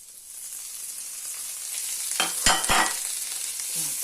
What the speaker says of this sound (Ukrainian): Готую гарбуз, додаю вершкове масло, додаю листя карі.